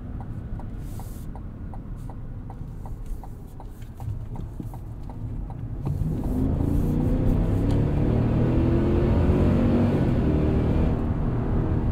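A 2021 Cadillac Escalade Sport Platinum takes a corner. Regular soft ticking, like a turn signal, runs over a low cabin hum, then engine and road noise swell louder and stay steady through the turn.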